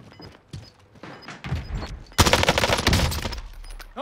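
Gunfire in a battle royale shooter: a dense burst of rapid shots erupts midway, loud and close after a few scattered thuds, with no talk over it.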